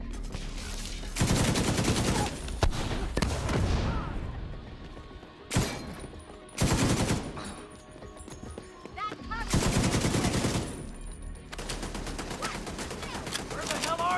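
Turret gunfire in the video game The Division 2: several loud, sustained bursts of rapid automatic fire separated by short quieter gaps, with a voice speaking now and then.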